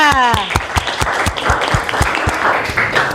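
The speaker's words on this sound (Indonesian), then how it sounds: "Kita tepuk tangan untuk kita." A classroom of students claps together after finishing a worksheet, sharp claps in a quick irregular stream, with a brief voice at the start.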